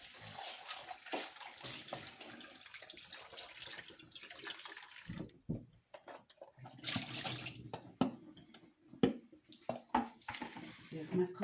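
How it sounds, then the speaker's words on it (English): Tap water runs over an apple being rinsed, a steady close rush with a short break partway through and then uneven splashing and handling. "I'm going to wash my apple."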